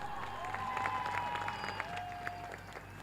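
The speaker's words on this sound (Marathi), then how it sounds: "मित्रांनो मॅच आवडत असेल तर एकदा दोन्ही टीम साठी जोरदार टाळ्या" A crowd at a local cricket tournament final applauds at moderate distance in a steady patter of claps, with faint whistles and cheering mixed in.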